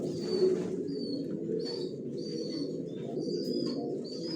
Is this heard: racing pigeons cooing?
yes